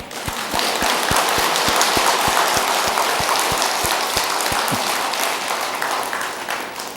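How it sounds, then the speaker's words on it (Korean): Applause from a congregation at a Buddhist dharma assembly, a steady dense patter of hands that stays loud and even for the whole stretch, with a faint low rhythmic tapping beneath it. "박수 한번 칩시다."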